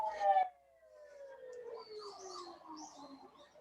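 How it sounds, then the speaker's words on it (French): An ambulance siren passes outside, its wailing tone gliding steadily downward as the vehicle moves away, loud at first and then fading, with a brief sharp burst at the very start and faint background noise behind it. "faire une pause pour l'ambulance"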